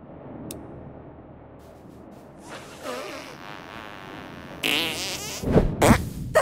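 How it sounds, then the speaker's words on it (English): A squeaky, sneaky fart in South Park: The Stick of Truth builds from a quiet buzzy rasp into louder, sputtering bursts near the end, heard alone without talk. "What is the sound of one anus farting?"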